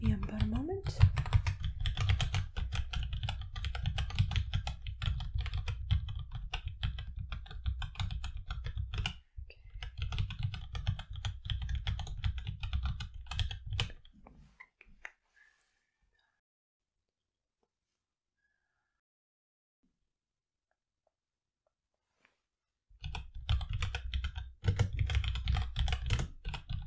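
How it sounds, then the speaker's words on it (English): Typing on a computer keyboard: rapid, close clicking keystrokes in long bursts, a stretch of silence, then typing resumes; no talk during the keystrokes. "I'm going to type up a very quick little paragraph to go with your picture"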